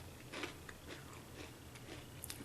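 Quiet, close crunching bites into crunchy whole wheat vanilla animal cookies, a few soft crisp snaps and chewing sounds spaced through a brief stretch, with no talking.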